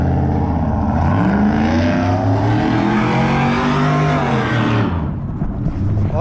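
Mustang and Challenger muscle cars rev at a street takeover gathering, with loud engine roars swelling and sliding in pitch for several seconds, then easing off.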